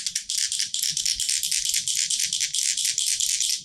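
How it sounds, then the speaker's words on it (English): A braided razor stinger fishing rig squeezed between pieces of wood gives a loud, continuous, bright metallic rattle that jitters nonstop, close up and on its own. "a very noisy rattle if you actually put it in between wood."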